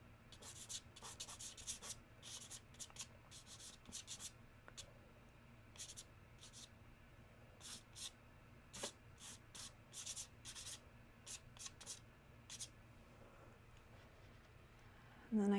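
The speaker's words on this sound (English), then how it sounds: "I'm just gonna scrub a little bit of that in." A hard stick pastel scrubs onto paper in short, soft scratchy strokes with brief pauses, quiet and close.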